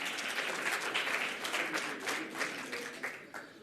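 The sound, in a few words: audience applause at summit closing ceremony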